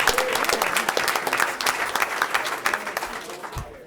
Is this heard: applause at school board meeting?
yes